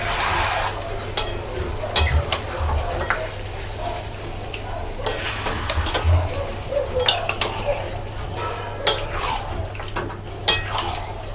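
Mutton pieces stirred in a pan with a utensil while they cook in liquid: repeated scraping and clinking strokes over a steady low simmering hiss, close up, with a faint voice now and then.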